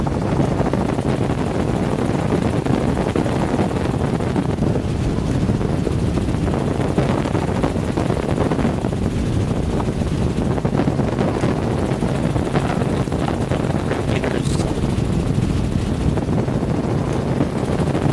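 Helicopter flying low over coastal marsh flats with tundra and sedge below, a steady dense rotor and engine roar mixed with wind buffeting the microphone, continuous and loud throughout.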